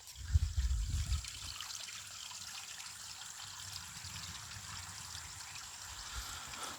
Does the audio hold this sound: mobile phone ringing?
no